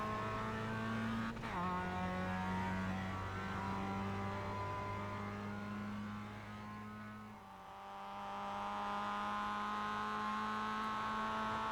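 A Mazda MX-5 race car engine in the iRacing sim at Spa-Francorchamps holds a steady, buzzing drone, drops briefly as it shifts, then revs back up. It sounds close and continuous, and no one speaks.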